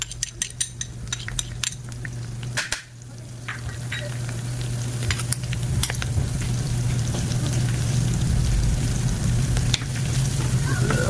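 Garlic sizzles steadily in a pan while sautéing for an alamang shrimp-paste dish, with the frying growing fuller over time and a metal utensil stirring and clinking against the pan.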